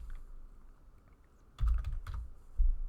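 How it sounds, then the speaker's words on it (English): Keys clattering on a computer keyboard as column names are typed into an SQL query, a few quick bursts of close clicks separated by short pauses. "we'll just start typing the new column names"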